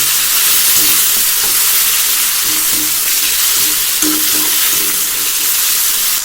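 Tomato sizzles in hot oil in a pan for a fish curry gravy, a steady loud frying hiss with occasional stirring scrapes and no voices.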